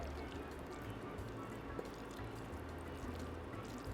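Thick green fig and banana pie batter pours from a pot into a greased dish with soft, wet, squishy dripping and sliding sounds, faint and continuous with small splats, close up and without talk.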